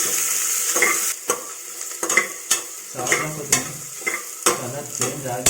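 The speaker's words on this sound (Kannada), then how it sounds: "ಈರುಳ್ಳಿನ ಕಲರ್ ಚೇಂಜ್ ಆಗುವಂಥ ಫ್ರೈ ಮಾಡ್ಕೊಳ್ಳೋಣ" Onions fry in a pan for paneer biryani with a constant sizzle, while a spoon repeatedly clinks and scrapes against the pan in irregular strokes.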